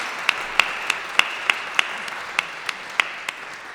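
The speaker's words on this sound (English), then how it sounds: "Big round of applause, everyone, for Melinda" Sparse, evenly spaced claps ring out at a morning arts event as a small audience applauds a departing speaker, about a dozen distinct sharp hits over a faint hiss, fading slightly toward the end.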